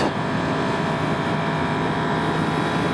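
A 2021 Yamaha R1 with a cross-plane crank engine holds around 6,000 RPM in a steady, loud droning roar mixed with heavy wind rush from a rider's view, with no talk.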